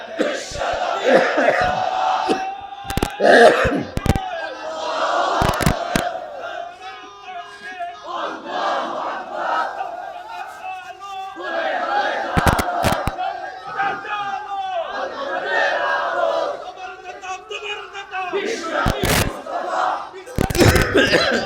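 Large crowd at an Islamic religious gathering answering a takbir call, repeated loud collective chants in waves, interspersed with sharp bursts of noise and a leading voice.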